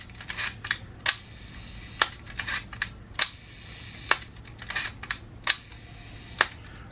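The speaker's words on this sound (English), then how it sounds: "and just operate the shutter." A Canon P rangefinder camera shutter is worked at slow speed after a few drops of lighter fluid, giving a string of crisp, close mechanical clicks and snaps in an uneven rhythm in a quiet room.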